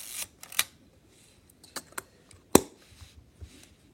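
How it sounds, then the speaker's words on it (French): A camera shutter opening and then closing after a one-second exposure, giving sharp mechanical clicks with a louder snap midway, close up among small handling noises. "vous allez voir l'obturateur s'ouvrir et se refermer au bout d'une seconde"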